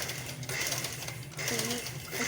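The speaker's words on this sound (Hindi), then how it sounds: "दोनों स्लीव्स में हमने दोनों बॉर्डर्स पे इस तरह से एक सिलाई लगा लेनी है" A sewing machine stitches along a sleeve border in a quick, faint mechanical rattle that pauses briefly, with a soft voice in the background.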